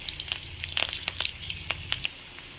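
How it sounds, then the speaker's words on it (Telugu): Cinnamon, green chilies, onion and cashews fry in oil in a pan, giving a light crackling sizzle with scattered pops and a few soft stirring clicks, close and moderately quiet. "దాల్చిన చెక్క పచ్చిమిర్చి ఆనియన్ అండ్ కాజు వీటిని వేగనివ్వాలి"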